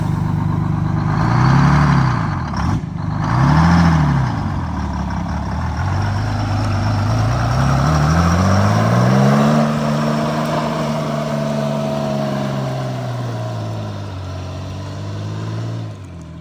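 An International cabover truck with an inline Detroit Diesel 6-71 and a transmission stuck in high gears drives off unloaded, a loud close diesel drone whose pitch rises and falls through revs before settling to a steadier run.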